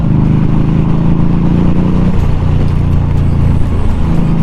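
Steady, loud motorcycle engine drone in third gear while engine braking downhill, with a low rumbling tone that shifts pitch midway, as if easing off the throttle, with continuous road and wind noise.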